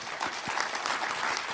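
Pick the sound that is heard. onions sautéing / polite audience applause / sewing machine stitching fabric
polite audience applause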